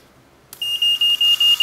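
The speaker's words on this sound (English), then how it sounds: "That's the oil pressure alarm." A Mazda B3 engine on a dyno at first start triggers its oil pressure alarm, a sharp high-pitched electronic beep repeating rapidly in short pulses over steady background noise.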